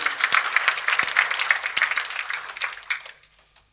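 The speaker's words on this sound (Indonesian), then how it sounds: "Kita beri tepuk tangan yang serius untuk kebenaran ini" A church congregation applauds, dense clapping from many hands spread through a large room, staying steady and then fading away toward the end.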